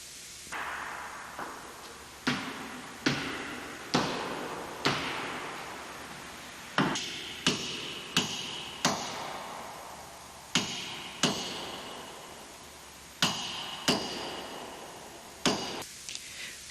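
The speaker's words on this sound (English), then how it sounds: "Upon completion, the splice is lowered to the floor and pounded to strengthen it." A spliced wire rope is repeatedly lowered and pounded against the floor, a series of sharp, loud thuds at uneven intervals, each ringing briefly and dying away, with no voices.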